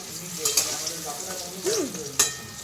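Steady sizzling of food frying in a pan, with a few brief clinks and stirring scrapes rising over the hiss.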